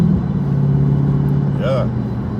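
A Dodge Charger 392 Scat Pack runs at light throttle, giving a steady, loud, low engine drone from inside the car with a brief chirp near the end and no rise in revs.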